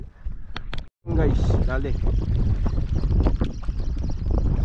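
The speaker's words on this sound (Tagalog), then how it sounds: "Lakas na yung hangin." Strong wind after a typhoon buffets the microphone with loud, rumbling gusts, while a person talks over it.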